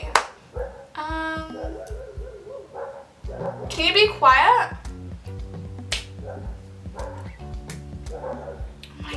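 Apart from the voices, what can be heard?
dogs barking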